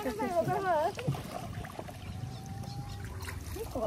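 A rowing boat moves across pond water, with faint sloshing and trickling splashes near the boat, while people talk at the start and briefly at the end.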